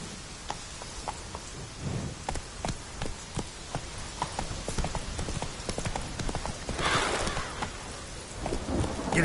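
Horse hooves clip-clop steadily in The Witcher 3, a quick rhythmic beat with rain and a rumble of thunder behind, and a louder gusty whoosh near the end.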